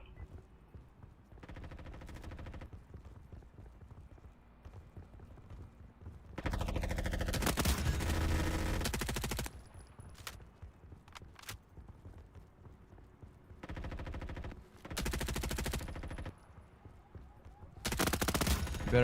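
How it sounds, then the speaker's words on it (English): Gunfire in the video game Deep Rock Galactic, arriving in several loud bursts separated by quieter stretches, with sharp rattling volleys that start and stop abruptly. "who in the heck is shooting me?"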